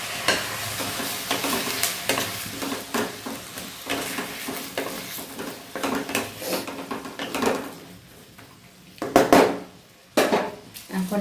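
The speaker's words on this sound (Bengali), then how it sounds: "এবার দিয়ে দেবো পেঁয়াজটা" Chopped onion frying in a pan for restaurant-style butter chicken while a utensil stirs it, giving a steady sizzle broken by repeated scraping and clinking strokes against the pan, close and fairly loud, with no talking.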